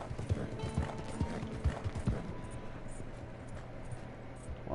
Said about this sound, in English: Oh, another horse.